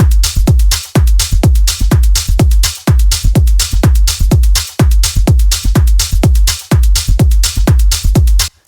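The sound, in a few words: layered techno house percussion groove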